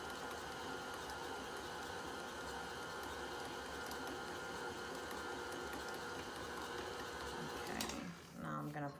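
An electric mixer works a crumbly butter mint dough at a fairly high speed, a continuous whirring motor drone that stops abruptly near the end, with a speaking voice faintly mixed in.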